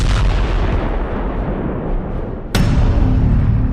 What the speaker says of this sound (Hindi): वो चंद कदम चले और फिर धमाका हो गया